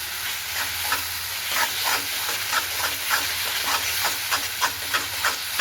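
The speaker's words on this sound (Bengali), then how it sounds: "মশলাটা কষিয়ে জল দিয়ে দেবো।" Spice paste for a katla fish curry fries in a pan with a steady loud sizzle and hiss, broken by small spitting pops and occasional stirring scrapes, close by with no voices.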